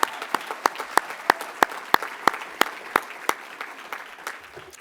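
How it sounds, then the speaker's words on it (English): An audience at the ABTA 2024 National Conference opening ceremony applauds award nominees with fairly quiet clapping, in which a few sharp, evenly spaced claps stand out over a soft wash of hands and fade toward the end. "Let's give a round of applause to all of this year's nominees."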